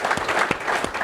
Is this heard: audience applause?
yes